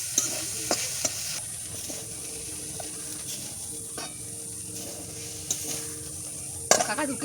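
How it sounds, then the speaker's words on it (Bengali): Jute leaves (pat shak) frying in a pan sizzle steadily at close range, broken by spatula stirs and sharp clanks against the pan, with a louder scrape near the end. "এই যে পাট শাক ভাজা করছি, আস্তে আস্তে হচ্ছে"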